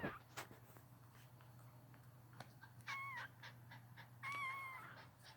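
A newborn puppy whines from under a bed, thin high-pitched whimpers and squeaks that rise in short bursts, quiet and close, with a steady low hum behind them.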